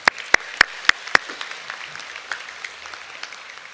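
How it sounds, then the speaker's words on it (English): Audience applause at a university graduation ceremony in a large hall: five sharp, evenly spaced claps ring out first, then a softer, scattered patter of clapping continues without any talk. "I do think they deserve that round of applause from you as well."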